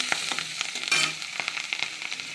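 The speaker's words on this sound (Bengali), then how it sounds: "দেখো তেল গরম হয়ে গেছে, একটু কালো জিরে দিয়ে দিলাম," Green chillies and nigella seeds sizzle in hot oil, a close hiss broken by sharp crackling bursts and spits, loudest near the middle, with no talking.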